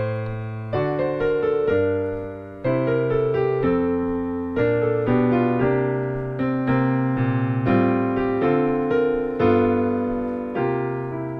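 Bossa nova style arrangement of the B section of Angels We Have Heard On High, chords and melody notes played in a lilting syncopated rhythm, close and steady with no talking.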